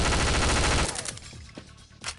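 An M4 rifle in The Specialists Half-Life mod fires a rapid automatic burst, then a few scattered single shots trail off, loud and close.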